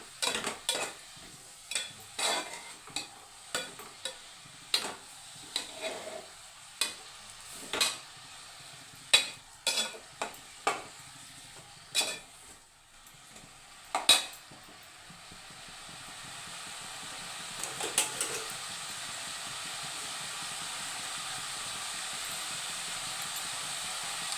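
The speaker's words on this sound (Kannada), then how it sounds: "ಇದು ಎಣ್ಣೆ ಚೆನ್ನಾಗಿ ಫ್ರೈ ಆಗ್ಬೇಕು ಫ್ರೆಂಡ್ಸ್" Onion greens are stirred in hot oil in a pan: a run of sharp spatula scrapes and clinks, followed by a steady, louder frying sizzle toward the end.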